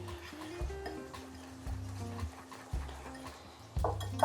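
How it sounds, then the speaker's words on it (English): Carbonara sauce is whisked in a bowl, with quiet, rhythmic tapping strokes against the sides repeating at a steady pace, close and faint. "And just whisking it all together."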